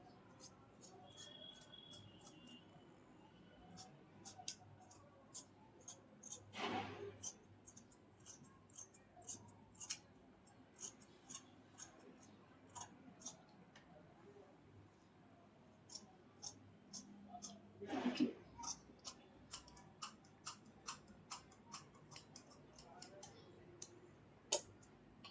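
Scissors cut blouse fabric in a long series of small, sharp snips, quiet and close, with a couple of longer rustling swishes between them.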